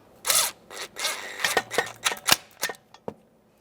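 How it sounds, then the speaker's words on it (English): A torque wrench tightening a mounting bolt during front ABS wheel speed sensor work on a 2014–2019 Toyota Corolla. Rapid, close ratcheting clicks come in uneven bursts and end with a few sharper clicks. "Got our torque wrench here."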